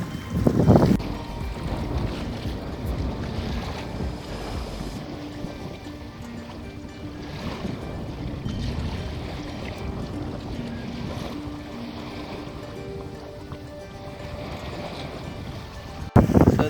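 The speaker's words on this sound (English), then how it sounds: "So the wind's picked up, it's blowing south now" Strong wind of around 35 knots roars over a microphone aboard a sailboat heading toward Ibiza, with waves surging and rushing against the hull in a loud, continuous wash that swells and eases without speech.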